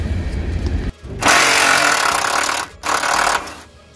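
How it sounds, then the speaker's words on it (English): A Craftsman impact tool hammers away at bolts on a 1986 four-door Oldsmobile Cutlass, with loud rapid rattling bursts close up, broken by a brief pause and then a second sustained burst before trailing off. "You know the Craftsman gonna blow these damn bolts off of here."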